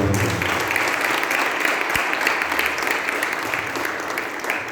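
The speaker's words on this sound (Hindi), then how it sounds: "आइए परमेश्वर के लिए हम जोरदार तालियों के साथ उसका धन्यवाद करें।" Church congregation clapping loudly in thanks during a pastor's service, a broad, continuous wash of applause with a single sharp knock near the middle, slowly easing off toward the end.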